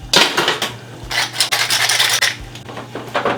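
Spoon scraping and stirring a seasoned minced meat mixture in a pan, in several rasping bursts with short pauses, close and clear with no talk.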